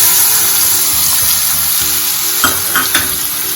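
Onions, turmeric and asafoetida frying in a pan for a Gujarati corn curry, a steady close sizzle with faint stirring scrapes and a few louder clinks near the end.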